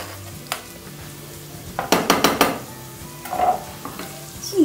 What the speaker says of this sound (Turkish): Şimdi soğanlarım pembeleşene kadar tereyağı da kavuruyorum.